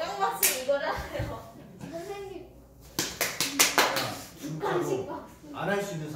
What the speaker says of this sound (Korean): 다들 박수 치면 건강해집니다